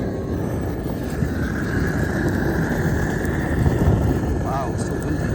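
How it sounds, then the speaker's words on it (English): Strong wind buffets the microphone with a constant low rumble while a person talks over it. "Oh, it's really windy."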